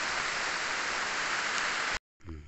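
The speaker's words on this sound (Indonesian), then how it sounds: "hujan guys" Steady heavy rain pours down outdoors as a dense, even hiss, close and loud for about two seconds, then cuts off briefly before a new sound begins.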